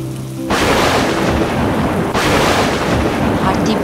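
Thunder with heavy rain in a Bengali cartoon storm scene, a loud, dense downpour roar that breaks in suddenly, with a second thunderous surge midway, close and continuous with no voices.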